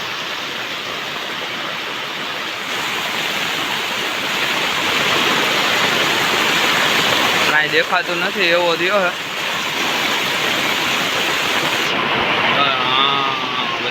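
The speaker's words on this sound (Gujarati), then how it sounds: "અડધી કલાક થયા ચાલુ થયો વરસાદ।" Heavy monsoon rain pours in Junagadh, with floodwater rushing through a road in a loud, steady roar, and someone briefly talks over the downpour midway.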